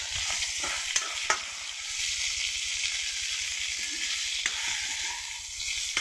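Goroi fish laid straight into hot oil gives a steady, close sizzle and crackle that runs unbroken throughout, with a few sharper spits and pops along the way.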